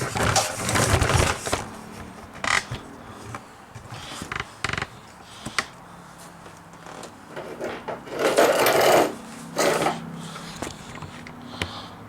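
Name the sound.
small motor of a Taylor Hobson Model A pantograph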